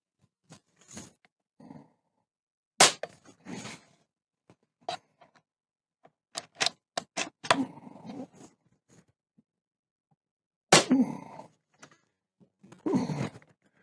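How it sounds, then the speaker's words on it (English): Air Venturi Avenger bullpup PCP air rifle fired with a Sumo suppressor, a string of sharp, muted thumps spaced apart with quiet gaps and some handling clicks between shots. "Let me shoot a few more rounds"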